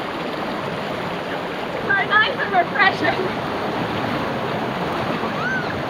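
A small waterfall pouring into a pool in Ubud, Bali, a steady close rushing wash of flowing water, with a person briefly speaking over it in the middle.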